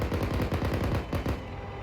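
A vehicle-mounted gun on a military training range during 15th MEU section training fires at targets. It lets off a rapid burst of heavy, closely spaced shots, then breaks off into a trailing rumble.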